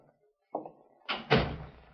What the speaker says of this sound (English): Baker of the Secret Service opened the door